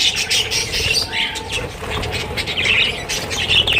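Pet parrots squawk loudly and repeatedly at close range in a home, a dense chorus of harsh calls mixed with chirps and some wing flutter.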